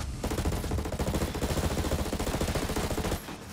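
Rapid automatic gunfire in the tactical shooter Ghost Recon Breakpoint, a sustained burst of fast, evenly spaced shots that rattles on for about three seconds before cutting off.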